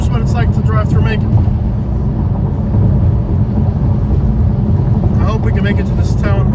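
Inside a car heading northbound on Interstate 75 through Macon, Georgia, a constant deep road-and-engine rumble fills the cabin. Voices talk briefly at the start and again near the end.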